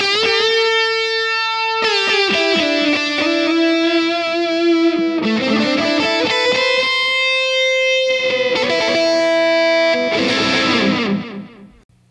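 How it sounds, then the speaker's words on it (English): A distorted, gritty synth tone through a Kurzweil KSP8 effects processor plays sustained notes that smear and repeat through a delay, layering echoes before fading out at the end. "Let's hear it with some distortion."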